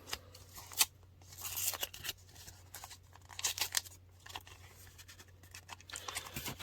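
A paper mail envelope is torn open by hand in a quiet room, giving a series of short, close ripping and crinkling bursts with soft pauses between them, and no talking.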